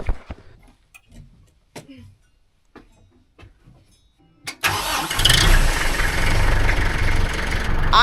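A tractor on a maple sap run, starting up: several quiet knocks and clicks, then the engine catches with a sudden loud burst and settles into a rough, steady idle rumble.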